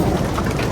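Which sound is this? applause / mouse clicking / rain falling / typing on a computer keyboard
rain falling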